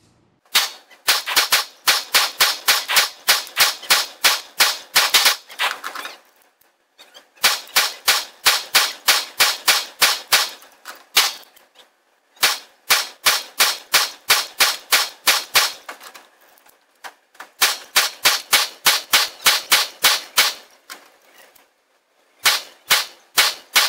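A Walther PPQ SC compact pistol is fired at a range in rapid strings of sharp, loud shots. Several long volleys are separated by brief pauses.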